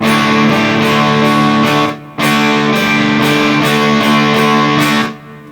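Electric guitar through a Danelectro overdrive pedal, chords ringing out with a gritty crunch, strummed in two long sustained phrases with a brief gap between them.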